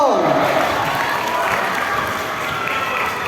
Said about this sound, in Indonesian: Tepuk tangan semua dong.